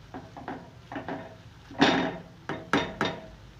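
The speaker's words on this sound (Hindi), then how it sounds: "ये तमाम कीमा मैंने इसमें डाल दिया। और अब मैं इसको मिक्स करूँगी।" Minced beef keema being stirred in a pan at home, a few distinct clanks and scrapes of a utensil against the pan in an irregular rhythm, fairly close and moderately loud, with no talking.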